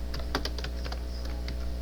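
Rapid, irregular clicking of a computer keyboard while entering a command into a terminal for Python web scraping, close and steady over a constant background hum.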